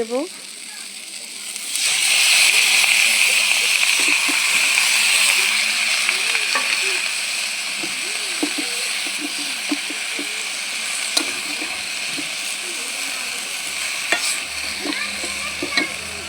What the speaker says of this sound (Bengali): শাকটাকে ভালো করে ভেজে নিয়েছি